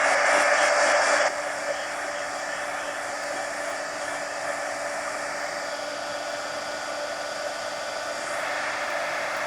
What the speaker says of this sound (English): Let me hit this with the heat gun first